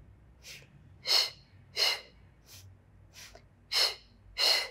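Breathing during a Pilates foam roller workout: several loud, airy breaths spaced about a second apart, alternating with fainter intakes, close to the listener over a low background hum.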